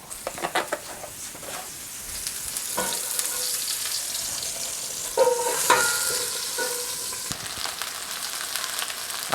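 A lion's mane mushroom fries in hot oil, crackling and sizzling steadily while a spatula scrapes and flips it, with several sharp clatters and a brief burst of louder spitting midway.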